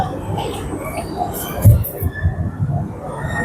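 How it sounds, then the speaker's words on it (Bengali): Train noise at platform 5 of Kamalapur railway station in Dhaka, a steady rumble of rail traffic with a brief louder clank midway, heard with busy station ambience. "ঢুকে গেলাম আমরা কমলাপুর রেলওয়ে স্টেশন।"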